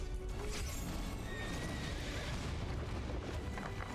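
A horse neighs amid a dense, loud boss fight against the Black Knight in the video game Stranger of Paradise, its whinny buried in rumbling combat effects and booming impacts.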